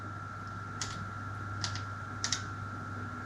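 Typing on a BBC Master computer keyboard: a few separate key clicks, some coming in quick pairs, close and distinct over a steady electrical hum.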